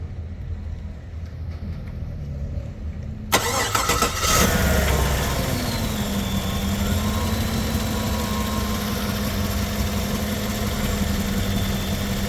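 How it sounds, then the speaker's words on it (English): A 2015-2019 Chevrolet Suburban or Tahoe engine cranks and starts, then settles into a steady close idle with the AC compressor running, a continuous even hum with no talk. "The AC compressor is on, fine."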